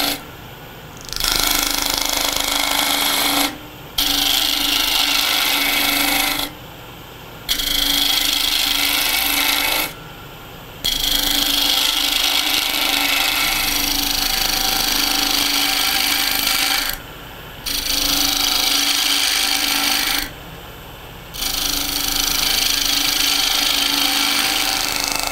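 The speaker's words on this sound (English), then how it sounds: "I feel a little more comfortable with the carbide cutter because it seems to eat away at this a little bit better, a little smoother" Carbide cutter shaving wood on a lathe while shaping a mushroom, loud close scraping and rasping in long bursts separated by brief pauses, with a steady motor hum underneath.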